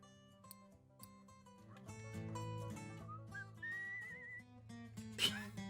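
A character whistles a short melody of matched notes in the game Where the Water Tastes Like Wine, a thin gliding tone rising over a busy layer of in-game music, with a brief sharp accent near the end.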